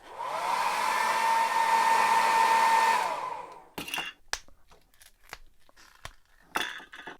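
A heat gun or hair-dryer-style blower warms a Mythic Legions action figure to loosen its plastic torso and skirt, a steady loud whirring for about three seconds before cutting off, followed by scattered clicks and handling noises.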